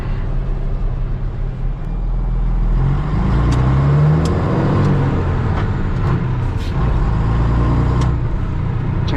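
A red car's engine revs up hard and accelerates quickly while driving on a mountain road, a loud, sustained close-up roar with rising pitch and no talking.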